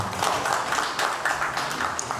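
A conference audience applauds for their country Nigeria, a steady wash of many hands clapping that fills the hall, loud and sustained throughout.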